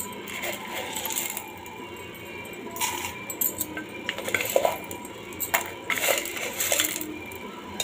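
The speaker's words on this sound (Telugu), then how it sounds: "పోపులు వేసుకుందాము" Mustard seeds, cumin and split chana dal tempering tossed into hot oil in a pan while making a curry, giving irregular crackles, clinks and small rattling bursts close by, with no talking.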